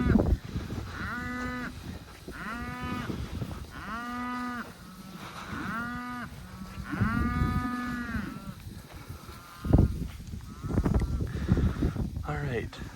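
Cattle on a Southwest Nebraska ranch moo repeatedly in long, drawn-out calls, several overlapping, fairly close and loud, with a person talking in between.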